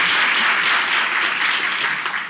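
Studio audience applauding on a Turkish relationship-test show, a dense continuous wash of many hands clapping, loud and sustained throughout with no voices standing out.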